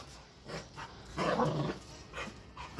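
A dog barks in a handful of short bursts, with one louder, longer bark in the middle, fairly close with no talking.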